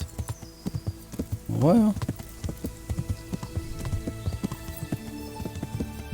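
Hooves clip-clop in a steady rhythm at close range in the video game Kingdom Come: Deliverance while a horse briefly whinnies; a man murmurs a couple of short words over the footsteps.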